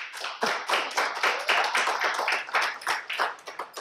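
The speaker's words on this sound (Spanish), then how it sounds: "A ver, otra vez, un aplauso fuerte." Small group applause close by, dense overlapping hand claps sustained for several seconds with uneven surges, prompted as a loud ovation.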